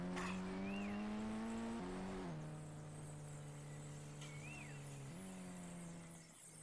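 A Lamborghini drives in Indian Bike Driving 3D, its engine holding a steady hum that shifts pitch in stepped jumps as gears change, fairly quiet and alone.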